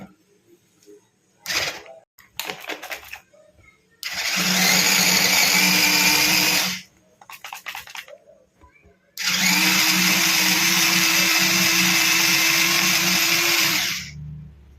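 A kitchen mixer grinder chops three green chillies in two long bursts, loud whirring blade noise of about three and five seconds, with short rattling pulses before and between the runs.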